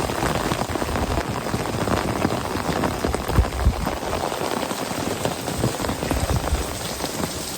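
Heavy rain pours steadily and loudly, drumming densely on surfaces throughout with no pauses.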